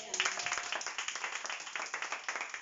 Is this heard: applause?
yes